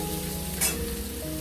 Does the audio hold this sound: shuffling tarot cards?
no